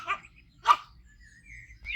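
A dog barks indoors, two sharp, fairly loud barks about half a second apart, followed by quieter whines and yips, with faint low background hum.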